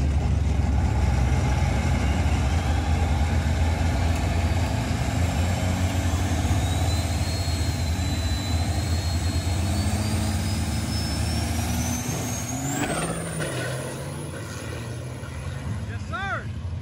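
VP44 Cummins diesel truck at a drag strip, a heavy low engine roar held steady, then launching down the track as the pitch sweeps upward and the sound fades with distance.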